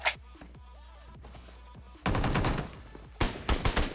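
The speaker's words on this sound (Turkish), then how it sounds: "Kalaşnikov'a geçiyorum yani" Kalashnikov rifle fire in PUBG: a quiet opening with faint distant pops, then loud close bursts of automatic fire, with another sharp burst of shots near the end.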